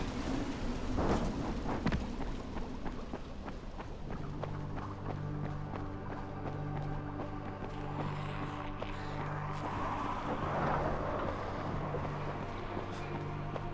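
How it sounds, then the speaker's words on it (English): Deep thunder rumbles through the Dying Light game world, a long low roll under steady ambient noise and scattered footsteps, with a louder burst near the start. "I keep hearing something that sounds like thunder that makes me think of playing this game"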